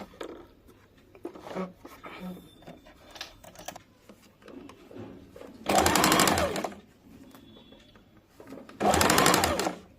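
A sewing machine runs two loud bursts while stitching a folded seam around the curve of a kurti, with someone speaking between the runs.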